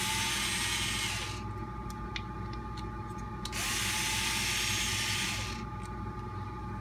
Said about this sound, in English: we're going to unbolt the shock tower with these two screws